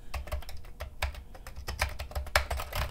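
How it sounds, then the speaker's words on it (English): Keys of a Commodore VIC-20 home computer being typed on, a steady run of close, crisp plastic key clacks in an uneven rhythm with no voices. "Keys feel near identical to how the Commodore 64s do"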